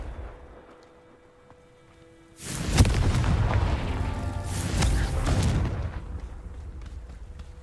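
A Confringo fire spell bursting in Hogwarts Legacy, a sudden loud booming blast after a quiet lead-in, followed by a sustained rumbling roar that slowly fades.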